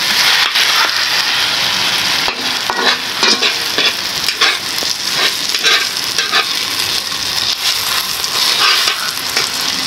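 Eggplant omelette (tortang talong) frying in a pan, a loud, steady close sizzle with repeated scraping and stirring strokes throughout, no voices.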